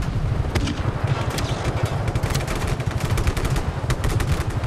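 Dense, loud gunfire in the video game Just Cause 3, rapid overlapping machine-gun bursts and heavy shots crackling continuously over a low rumbling backdrop, with no talking.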